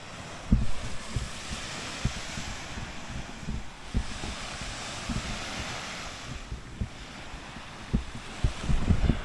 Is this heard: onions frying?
no